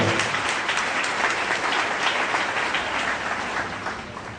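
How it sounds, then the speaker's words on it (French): A church congregation claps together in praise, producing a loud, thick wash of applause that holds steady and then tapers slightly toward the end. "Alléluia, applaudissez pour le Seigneur"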